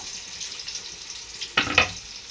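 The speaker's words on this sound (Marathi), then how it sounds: "तेल चांगलं गरम होऊन द्यायचं तर हा कांदा मी अर्धा किलो कांदा घेतलेला आहे उभा चिरून आता मी सगळा टाकते" Half a kilo of vertically sliced onions tipped into hot oil for veg biryani, giving a sudden loud sizzle and splash after a soft steady background hiss.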